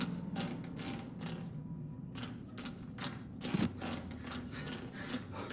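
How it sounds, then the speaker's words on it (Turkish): A saw grinding in the horror game Outlast Whistleblower: rapid, harsh rasping strokes repeat in a steady rhythm, broken by one short pause, then resume loud and close. "Abi testere sesini hiç sevmiyorum ya."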